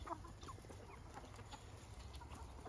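Hens clucking faintly, including a French copper Marans among other chickens, soft scattered clucks and murmurs at a distance over a quiet outdoor background.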